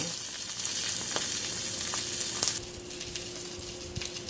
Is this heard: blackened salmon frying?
yes